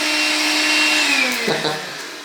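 A Makita vacuum cleaner fitted with a cyclone attachment runs steadily with a loud, even motor whine, then pitches down slightly and fades near the end.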